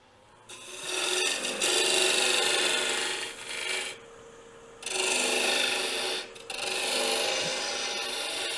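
A turning tool scrapes and rasps against a spinning wooden Christmas ornament on a wood lathe, tapering the wood in loud sustained passes broken by short pauses, close up with no talking.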